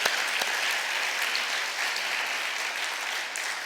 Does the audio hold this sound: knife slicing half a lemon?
no